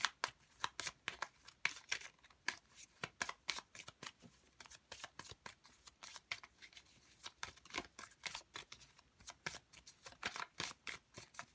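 Tarot cards being shuffled by hand, a quick run of soft, crisp riffling flicks repeating in an uneven rhythm, close and quiet with no talking.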